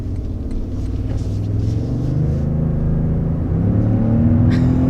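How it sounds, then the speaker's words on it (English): Deep, steady engine and exhaust rumble from a 2022 Toyota Tundra Limited TRD pickup with a catback exhaust, a continuous low drone heard from inside the truck, swelling slightly toward the end. "Just kind of a guttural, deep, burly sound."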